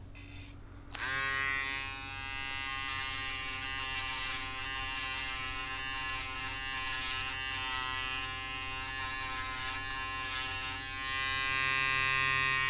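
Electric foil shaver running continuously over a shaved head, a close, steady buzz that starts after a brief moment of quiet and keeps going for more than ten seconds with slight changes in pressure.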